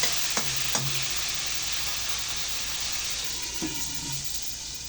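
Chicken sautés under a lid in a pan on a green bean dish, giving a steady hiss with a few brief clinks and knocks near the start and later; close and fairly loud, with no voices.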